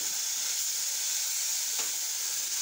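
Brinjal, potato and raw banana sautéing with ginger and garlic in a pan, a steady close hiss of sizzling with a single faint clink partway through, no talking.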